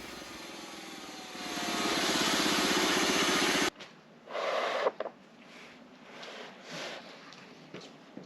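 A sawmill engine cutting big wooden slabs from land-clearing timber: a loud, steady engine roar with a rising whine that cuts off abruptly, followed by quieter scattered knocks and clunks.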